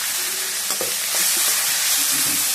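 Tomato, onion and garlic sauté in a hot pan for a cabbage and dal kootu, a loud continuous sizzle close up with a few clinks and scrapes of a stirring spoon and no talking.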